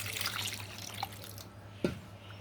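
Mung dal being washed under running water in a home kitchen: a faint tap stream splashes and trickles, followed by a couple of soft drips and one brief louder plop.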